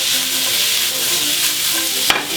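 Onion and pepper fry in cooking olive oil in a pan at 200 °C, giving a steady, loud sizzle with scraping stirring strokes and a sharp clack near the end.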